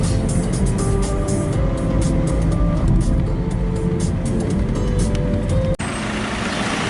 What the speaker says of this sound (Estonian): Ilmselt pargime auto kuhugi ära ja teeme väikse peatuse